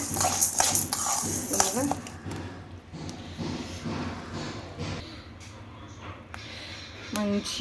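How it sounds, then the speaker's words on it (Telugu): Dried red chillies frying in a pan for sambar powder make a soft sizzle with stirring and utensil scrapes, while a person talks over most of it. "ఫైనల్గా ఎండుమిర్చి కూడా వేయించుకోవాలి"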